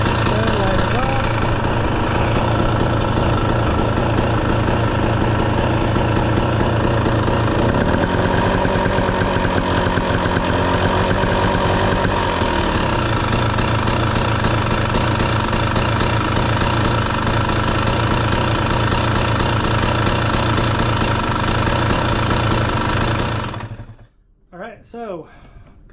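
A 2023 KTM 300 XC two-stroke dirt bike engine runs loud and close, a steady buzzing idle with brief throttle changes midway, then cuts off near the end.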